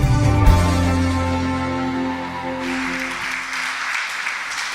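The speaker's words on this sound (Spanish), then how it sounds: "Recibamos con un fuerte aplauso la palabra de Dios." Applause from a church congregation at a Christian service in Mexico, starting strong and continuing steadily for several seconds, mixed with a sustained musical tone underneath.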